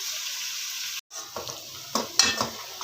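Onions browning in a pot for chicken biryani, a soft, steady sizzle broken by a few short scraping and stirring knocks near the end, with a brief gap of near silence early on.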